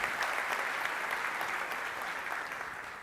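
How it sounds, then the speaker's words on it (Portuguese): A church congregation applauds after a Bible reading. The clapping is sustained and even, a continuous wash of many hands at moderate volume with no voices over it. "Vamos aplaudir esse texto maravilhoso, a palavra do Senhor."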